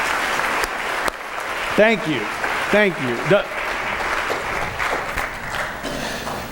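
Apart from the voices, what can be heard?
congregation applause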